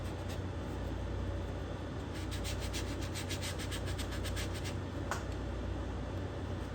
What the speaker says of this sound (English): we're going to get our sandpaper. Just going to sand a little bit of this.